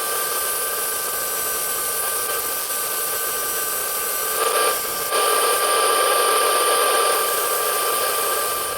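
A scroll saw cuts a small wooden heart with a loud, steady high-pitched whine and rapid buzzing, its pitch shifting briefly midway as the blade works through the wood.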